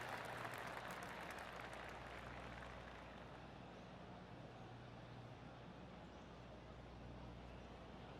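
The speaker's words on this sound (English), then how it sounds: "Oh, golf clap." Soft, steady golf clap applause from a distant crowd in the video game PGA Tour 2K23, a continuous patter of clapping that stays even and fairly quiet throughout.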